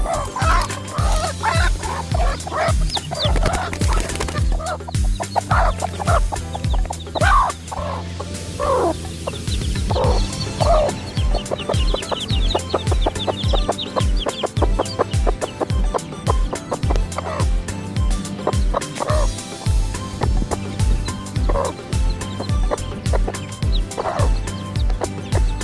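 Newly hatched chicks peep steadily while a hen clucks close by, a busy, continuous farmyard chatter that carries through the whole stretch.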